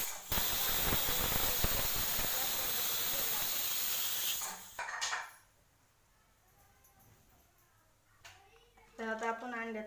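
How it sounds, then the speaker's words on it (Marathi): A pressure cooker boiling salted eggs lets out one loud, sustained steam whistle lasting several seconds before it cuts off, followed by quiet and then a voice speaking near the end. "आता आपण कुकर लावून एक शिट्टी घेऊया।"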